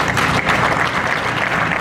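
An audience at a school ceremony for the handover of a dome at a primary school claps, a dense, loud burst of applause that holds steady throughout.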